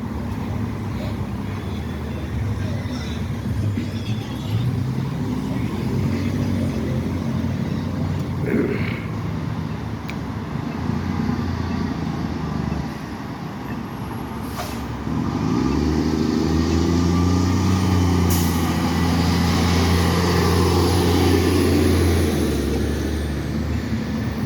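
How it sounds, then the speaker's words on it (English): Steady road traffic at the Washington and Bartlett intersection, with engines idling and passing vehicles forming a continuous low rumble; a heavier truck-like drone swells in the second half, with a brief sharp hiss partway through. "we'll watch the traffic for a little bit and see how smooth it moves"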